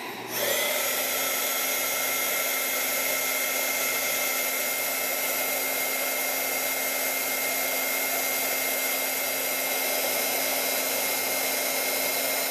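An electric heat tool blows a steady, loud whir while melting embossing powder, running continuously from start to finish with no one speaking.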